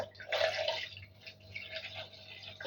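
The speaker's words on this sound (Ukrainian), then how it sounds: "в той же стакан я наливаю 350 грамів оцту" Vinegar poured into a measuring glass while making a marinade for hot peppers, a soft continuous trickle of liquid heard close up in a quiet kitchen, with no talking.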